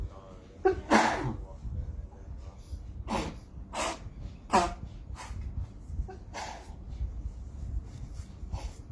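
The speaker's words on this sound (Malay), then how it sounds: "Minta maaf, terbersin sikit pagi ni." A man sneezes sharply a few times during a morning religious talk, the bursts standing out near the microphone amid low room noise.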